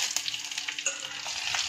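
Mustard seeds, garlic and dried red chillies sizzle and crackle in hot oil for a drumstick-leaf saaru tempering, a steady close frying hiss with small pops and stirring scrapes, no voices.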